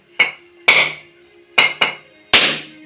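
Five sharp, loud hits crack a coconut for a puja offering, arriving in two close pairs and then a single final strike, each with a short ringing decay and no voices.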